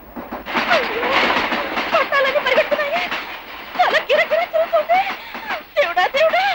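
A train runs in a movie scene, its rumbling clatter sitting low beneath loud, continuous voices and bursts of laughter.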